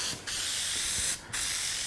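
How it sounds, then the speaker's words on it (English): Aerosol can spraying headliner adhesive while recovering the headliner of a Chevy Silverado Crew Cab, a steady close hiss broken by two short pauses between bursts. "if you keep it level and keep it about that 6-inch mark, it sprays a much more even pattern"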